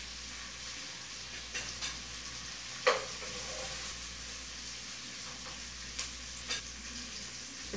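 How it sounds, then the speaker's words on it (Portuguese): Linguiça sausage fries in a pan with a soft, steady sizzle and occasional light knocks and scrapes from stirring, fairly quiet and without talk. "Esperar fritar bem a linguiça."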